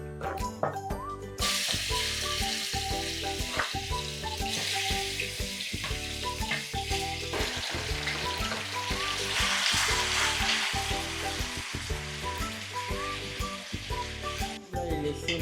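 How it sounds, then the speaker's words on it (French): Meat fries in a pan for a breadfruit dish, a constant loud sizzle and crackle with stirring under a repetitive musical backing throughout. "On va maintenant mettre notre viande à la poêle."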